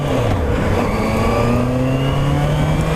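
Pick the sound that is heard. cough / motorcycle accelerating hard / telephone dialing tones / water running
motorcycle accelerating hard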